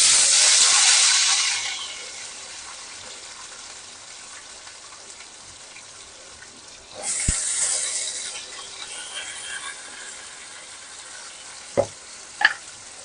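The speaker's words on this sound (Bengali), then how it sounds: "আমি এখন এই আলুগুলো ছেড়ে দেবো। আলুগুলো ভাজা ভাজা হবে।" Potatoes dropped into hot oil left from frying fish, with cumin and bay leaves, sizzle loudly at first, settle into a steady low hiss, then surge again with a couple of sharp clinks from stirring.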